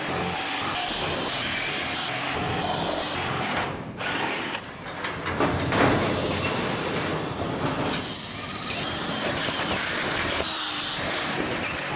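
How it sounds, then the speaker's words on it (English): A power drill bores out marked holes in metal bus panels, a loud, continuous grinding whir with brief dips between holes, heard close up and without talk. "it's time to drill them all out"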